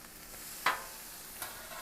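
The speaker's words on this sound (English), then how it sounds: "Let's flip these burgers one more time." Burger patties sizzling on a grill alongside toasting buns: a steady quiet fry hiss with a sharp scrape-and-slap as a patty is flipped, then a second softer flip, close and with no talking.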